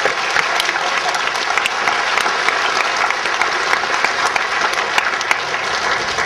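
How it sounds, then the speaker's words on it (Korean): A church congregation applauds in praise during a worship service, a loud, steady, dense wash of many hands clapping that holds evenly throughout without pause. "우리의 찬양과 우리의 박수로 이 시간 올려드리길 원합니다"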